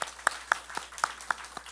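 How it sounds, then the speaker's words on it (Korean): Church congregation clapping together after a Korean Sunday worship prayer, with about eight evenly spaced, fairly soft claps in a slow steady rhythm over a quiet room. "우리 하나님께 영광의 박수 돌리겠습니다."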